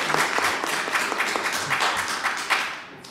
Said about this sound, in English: Hold the applause.